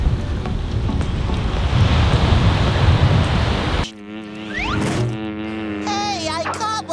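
Strong wind buffeting the microphone and surf rolling onto a chilly spring beach at Hilton Head Island, a loud broadband roar for several seconds that drops off abruptly into quieter water sounds with faint voices and whistling tones.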